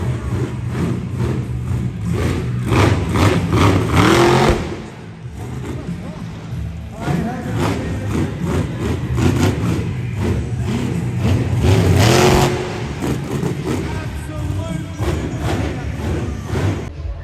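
At a monster truck event, big truck engines rev loudly in repeated roaring surges with thumps, two bursts building to peaks before easing off, crowd noise and voices mixed in.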